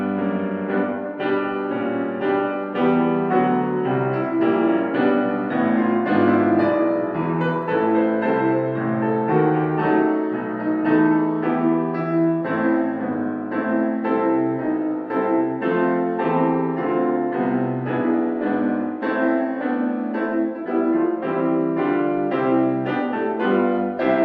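Full orchestral and choral music by Elgar, the opening of The Light of the World, plays continuously, rich layered harmonies swelling slowly with sustained voices or strings, warm and steady throughout, no talking.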